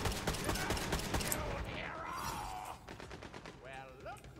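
Rapid video game gunfire rattles in quick repeated bursts at fairly low volume, with a brief lull and a whooshing sweep between volleys before more shots.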